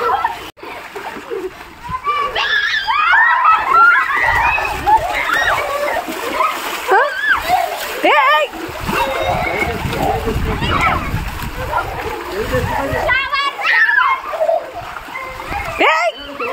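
Children splash and play in rainwater dammed up on a rooftop terrace, with continuous sloshing and splattering close by while kids shout and talk throughout.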